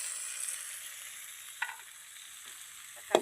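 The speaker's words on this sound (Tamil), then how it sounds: "தக்காளியும் போட்டு கிளறிக்கணும்." Tomato tossed into onions already frying in a pan for a tamarind lentil curry, a faint soft sizzle with two short stirring scrapes, quiet and close with no voices.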